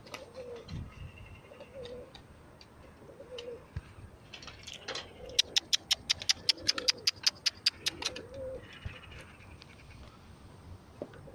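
Soft low cooing from nearby pigeons, joined midway by a quick run of sharp, evenly spaced clicks or flaps, then more cooing fading out, with a sparrowhawk overhead.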